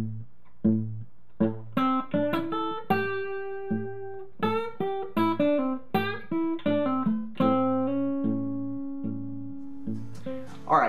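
Electric guitar plays a blues lick with quarter step bends slowly, plucked notes spaced out with small upward bends and sustained tones, close and solo.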